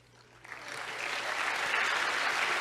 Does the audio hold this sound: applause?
yes